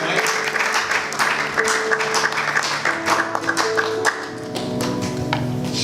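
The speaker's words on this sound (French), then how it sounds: "Sous vos acclamations." Applause from a church congregation at a Christian gathering, a dense steady patter of many hands clapping for several seconds, with a faint voice or two under it.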